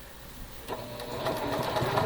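A home sewing machine stitches a quilt border, a steady mechanical whir with a light rapid needle rhythm that picks up and grows a little louder partway through, running close by with no talk over it.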